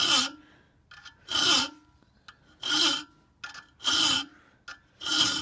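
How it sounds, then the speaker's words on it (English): Metal file rasping across the front four teeth of an ice axe, five long scraping strokes in a steady rhythm, close and fairly loud, with short quieter pauses between them and no talking. "We don't have to massively sharpen these because it's just the front four."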